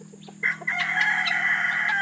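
A five-month-old Light Sussex chicken crows close by on a small mixed farm, after a few soft clucks, with the crow held steady and moderately loud over a low background hum.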